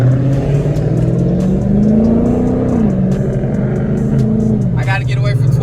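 A Dodge Charger Scat Pack with the muffler and resonator deleted rumbles loudly and steadily close by, its engine note climbing and settling as it revs, with a brief high whine near the end.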